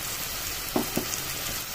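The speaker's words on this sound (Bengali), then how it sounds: "এই যে পোস্ত আর তিলটা বেটে রেখেছিলাম সেই যে জলটা, মিক্সি দেওয়া জলটা এখানে আমি দিয়ে দিলাম" Ground poppy seed and sesame water hits a hot pan, setting off a steady sizzle and hiss with two brief splashy bursts near the middle, heard alone without talk.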